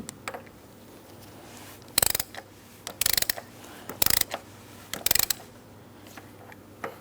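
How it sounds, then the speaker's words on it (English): A small ratchet tightening the oil drain plug on a 2003-2007 Cadillac CTS, heard as short bursts of quick metallic clicking repeated several times with pauses between them, close up and without speech. "Now I'm just going to lightly bottom it out using a small ratchet"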